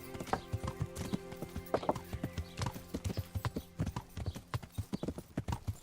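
Horse hooves clip-clopping in the medieval game Kingdom Come: Deliverance, a brisk, steady run of sharp clops, loud and close, with a faint whinny and no voices over it.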